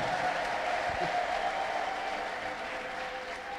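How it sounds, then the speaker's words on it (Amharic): Church congregation applauding steadily throughout, a dense continuous clatter of many hands with a sustained high tonal layer that could be ululation, loud and fairly even. "እልልታ ለጌታ ስጡ እልልታ ጭብጨባ"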